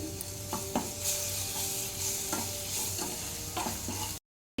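Ginger garlic paste frying in a pan with salt, a constant close sizzle with occasional scrapes and taps of stirring, cutting off abruptly near the end.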